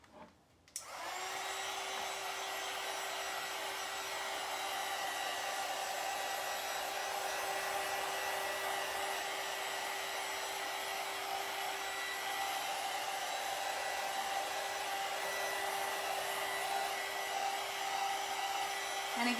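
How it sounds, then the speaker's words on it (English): A handheld heat tool blows steadily to dry polyacrylic finish on a vanity makeover piece, a continuous close whirring hiss that starts abruptly and holds at an even level throughout. "let's see if we can go ahead and dry this up real quick"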